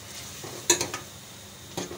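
Keema with turmeric stirred in a pan on a home kitchen stove: a few quiet spoon scrapes and clinks against the pan over a faint background sizzle, with one sharper clatter near the start and a softer one near the end.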